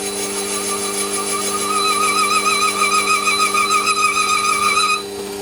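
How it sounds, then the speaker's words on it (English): A lathe runs while a chamfering tool cuts the edge of a Stuart Models S50 engine flywheel, giving a loud, steady hum with a wavering whine that drops away just before the end. "And a little chamfer on that edge."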